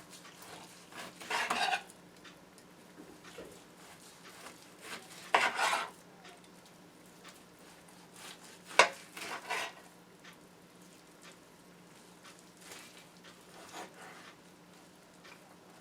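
A knife cuts half-inch slices from a cooked ham near the bone, making scattered scraping, rasping strokes in several short bursts against a quiet kitchen background.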